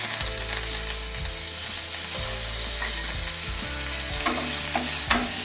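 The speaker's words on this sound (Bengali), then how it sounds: "এই তেলের মধ্যে আমি একটা শুকনো লঙ্কা ছিঁড়ে এই যে ফোড়ন দিলাম।" Dried red chili and curry leaves temper in hot oil, crackling and sizzling continuously with scraping stirs, while soft melodic music plays underneath.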